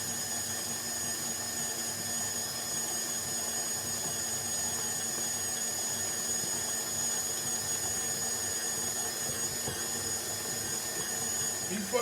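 A kneading machine works bread dough of milk and flour with a steady, high-pitched electric motor whine that holds constant throughout, moderately loud and uninterrupted, with no talking.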